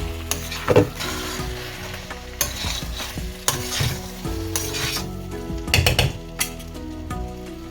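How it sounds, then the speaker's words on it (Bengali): Chicken being stir-fried with cooked-down spice paste in a pan, loud scraping spatula strokes and clattering knocks over a constant sizzle, in irregular bursts, close up and without speech. "আমি চিকেনগুলো দিয়ে দিলাম এবার ভালো করে সব কিছুকে একসাথে"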